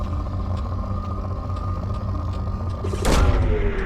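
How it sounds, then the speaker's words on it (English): A probe launches in Mass Effect 2: a steady low mechanical hum runs for about three seconds, then a loud, sharp whooshing burst kicks off the launch near the end. "Launching probe."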